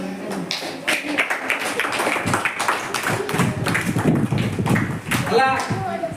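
Children in a classroom number game clap their hands in brisk, uneven bursts that run through the whole stretch, mixed with close, lively voices talking over them.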